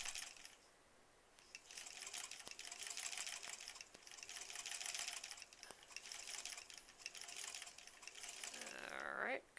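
A sewing machine stitching and back tacking the seams of a bunny stuffed toy, a steady fast whirring run of stitches that pauses briefly several times, with a short scrape of fabric being moved at the end.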